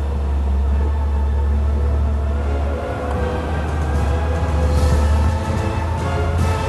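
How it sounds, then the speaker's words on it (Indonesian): Cars passing on a road overhead produce a continuous low rumble with steady traffic noise, heard from below near a hole where large pythons live, with no voices. "suara bising yang berasal dari mobil yang lewat di atas"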